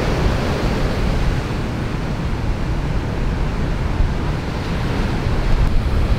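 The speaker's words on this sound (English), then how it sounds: "Waves are still not that good." Ocean waves at Waimea Bay, Hawaii, viewed from a high vantage point: a steady, broad roar of surf mixed with wind buffeting the microphone, continuous and fairly loud throughout with no one talking.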